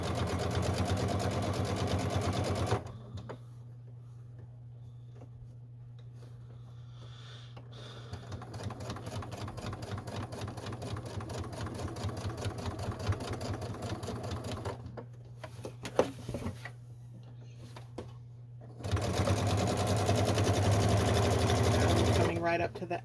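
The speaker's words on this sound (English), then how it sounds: "go right back over those stitches you started with, back a couple, and the top stitching is done" A sewing machine runs top stitching along the edge of a fabric bag, a steady fast mechanical chatter that stops briefly then resumes louder, with someone talking over it in the middle stretch.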